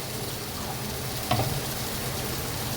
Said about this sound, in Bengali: এবার আমি ভালো করে কষাবো। নিচে লেগে যাচ্ছে।